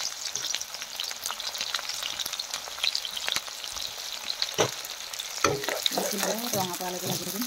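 Onions frying in hot oil in a wok with a bay leaf, a steady close sizzle with occasional stirring scrapes and clinks, and a voice briefly speaking toward the end.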